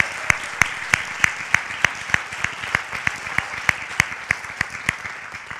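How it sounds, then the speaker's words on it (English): Audience applause with sharp, evenly spaced loud claps standing out in a steady beat over softer, continuous background clapping. "Give them a round of applause"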